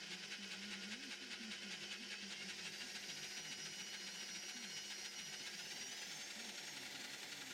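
Scheppach DP50/DP60 digital bench drill press running at its lowest speed setting, a faint, steady motor hum with a continuous high whine and slight wavering, alone throughout.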